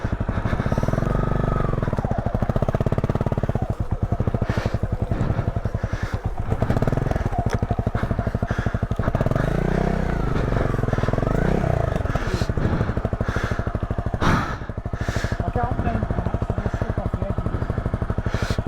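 A motorcycle engine putters steadily at low revs on the road, a close, continuous rhythmic thrum with slight rises and dips in pitch over the whole stretch.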